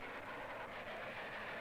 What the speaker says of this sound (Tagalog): Kalaga mo na ako, palapit na ang tren!